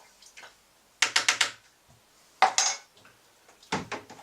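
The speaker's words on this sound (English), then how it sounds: "Quick stir." Metal spoon clinking and scraping inside a glass vessel while yeast nutrient is stirred into mead, with a quick run of four bright taps, one more strike, and a final flurry of close clinks.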